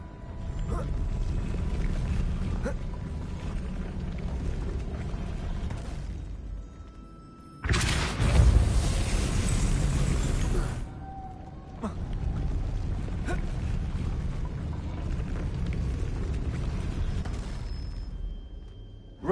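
Depulso spell cast in a Harry Potter video game on PS4: a sudden loud whooshing burst with a booming impact, about three seconds long, set in continuous game ambience and background noise.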